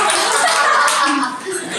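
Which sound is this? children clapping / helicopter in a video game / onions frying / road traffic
children clapping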